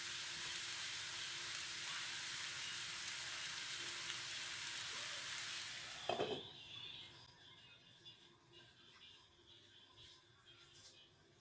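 Callaloo cooking in a pot, a steady loud sizzling hiss that cuts off sharply with a clatter as the lid goes on, leaving a quieter muffled bubbling simmer afterward.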